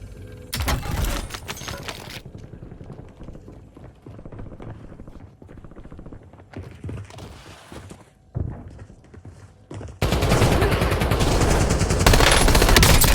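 Bursts of automatic gunfire in the video game Warzone, rapid loud volleys broken by short pauses and quieter stretches, ending in a long sustained barrage that swells even louder.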